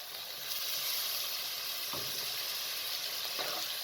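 Fried potatoes with spices and blended tomatoes cook in a pan for a cabbage, mince and potato curry, giving a steady, even sizzle close by with a couple of soft stirring knocks and no speech.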